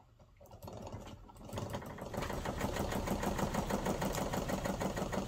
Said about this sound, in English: first attempt at spinning the wheel